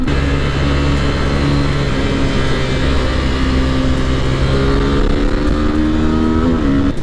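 Suzuki Gixxer SF motorcycle with a 249.1 cc engine accelerating hard into a corner, a steady loud engine drone with rising harmonic pitch toward the end, no talking.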